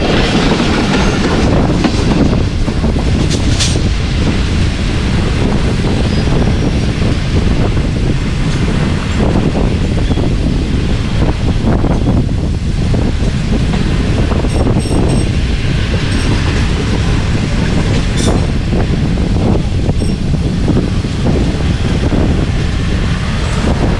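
Shah Hussain Express passenger train running on rails toward Lahore, a loud steady rumble with rhythmic clickety-clack and wind buffeting the microphone throughout, heard close from on board with no speech.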